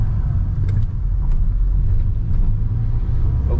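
VW Saveiro pickup with a light rear end driving through curves, a steady low engine and road rumble heard from inside the cab, continuous with small swells in level as it corners.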